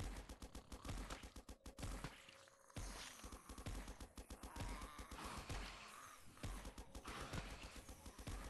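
Rapid gunfire in the Android tower-defense game Tower Destiny Survive: dense bursts of sharp repeated shots with brief pauses, loud and continuous across the clip.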